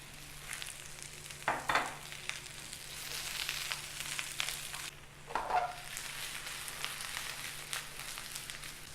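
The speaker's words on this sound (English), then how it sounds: "while the zucchini and yellow squash are cooking" Zucchini and yellow squash fry in olive oil in a pan, a steady close sizzle with a couple of louder stirring scrapes, continuing alone without speech.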